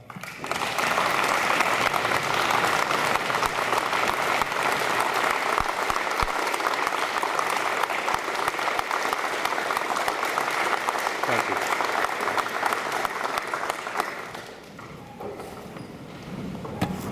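A festival crowd gives sustained applause for a survivor speaker, dense rapid clapping from many hands held at steady loudness for about fourteen seconds before dying away into quiet room noise.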